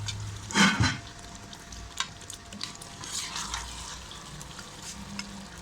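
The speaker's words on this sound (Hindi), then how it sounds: "ये अब ना दरमियानी आंच करके इसको भूनना है इसी मसाले में चिकन को जो पहले फ्राई किया" Chicken frying in masala over medium heat for a restaurant-style gravy chicken, a soft steady sizzle with a brief loud stirring or scraping clatter near the start, then quieter crackle and faint clinks.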